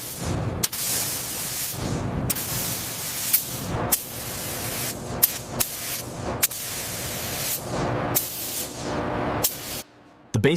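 Spray gun applying a base coat inside an aircraft factory, a steady close hiss in long bursts broken by short pauses, no voices.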